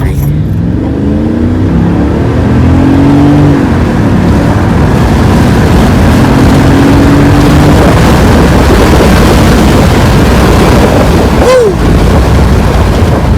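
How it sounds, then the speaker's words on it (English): A Mercedes CLK 430 Designo edition V8 with slight blow-by, ESP off, accelerating hard down a street: a loud, constant engine roar with rising pitch sweeps, heard from inside with heavy road and wind noise. "I'm gonna gun it, turn the ESP off, and I'm gonna gun it down the street."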